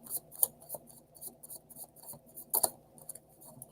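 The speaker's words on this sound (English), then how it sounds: "That was a good shuffle." Tarot cards being shuffled close up, with soft irregular riffles, slides and paper flicks, including a couple of sharper snaps.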